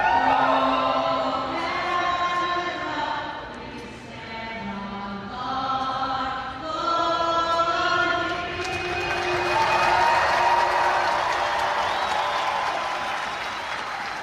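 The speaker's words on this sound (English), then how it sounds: "Fans cheered "O Canada."" Hockey fans at a San Jose game against the Montreal Canadiens sing O Canada together in a large arena, then break into loud, sustained cheering and applause that swells over the last several seconds.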